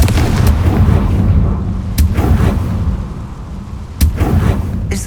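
Fiery blasts from the Confringo curse in the Hogwarts Legacy video game, a dense rumbling barrage of booms with sharper cracks near two and four seconds, loud and continuous with no talking.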